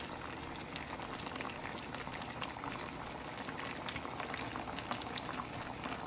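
Chopped onions are added to a pot of Jamaican-style curry chicken, where a constant close bubbling and sizzling carries on without a break. No voices.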